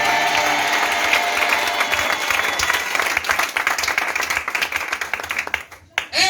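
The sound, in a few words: audience applauding and cheering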